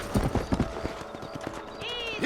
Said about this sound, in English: Oh, would you stop freaking out, horse?